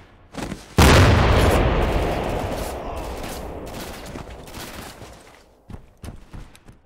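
A grenade detonates in Mare Nostrum, one heavy, loud blast after a short shuffle, its rumbling roar slowly dying away over several seconds, with scattered clicks and distant gunfire afterward.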